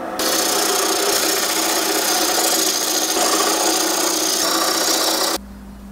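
Wood lathe spinning a workpiece at about 800 RPM, a steady loud whir mixed with a rasping scrape of cutting that runs evenly for several seconds before stopping abruptly.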